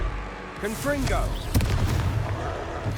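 Confringo fire-blast spell in the video game Hogwarts Legacy lands as a sharp burst with low rumbling impact, heard amid spoken battle dialogue.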